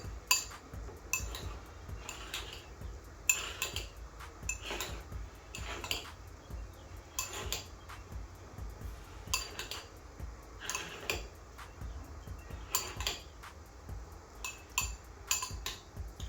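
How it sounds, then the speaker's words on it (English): A metal spoon stirring quinoa in a bowl, giving repeated quiet clinks and scrapes in an uneven rhythm, close up and faint, with no talk. "Stir it up a bit."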